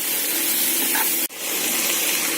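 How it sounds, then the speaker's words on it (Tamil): Water poured into a pan of frying potato masala, a steady rushing hiss with a brief break midway before the gushing resumes. "தண்ணி ஊற்றுங்க."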